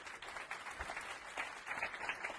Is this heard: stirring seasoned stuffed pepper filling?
no